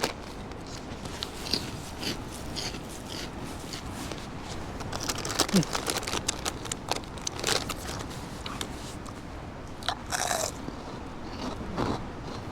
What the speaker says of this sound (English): They're not normal pork scratchings.